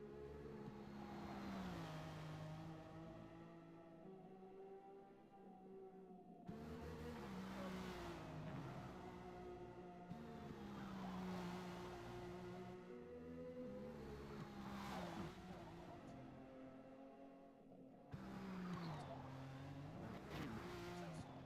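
A race car in the Forza video game revs hard and continuously, its engine note climbing and dropping through repeated gear shifts with brief breaks between pulls, loud and close with no talking.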